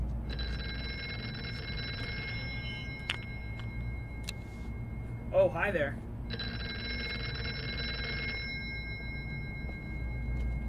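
An old-style telephone bell rings in the horror video game Here They Lie, played in VR. There are two long bursts of steady metallic ringing, each about two seconds, with a voice speaking briefly in the gap between them.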